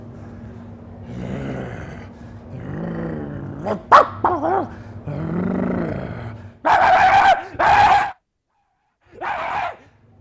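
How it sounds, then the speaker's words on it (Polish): A dog growls in low rumbling bursts while attacking a hen, then lets out several loud, sharp barks close up, with brief pauses between. "Kurę atakuje pies."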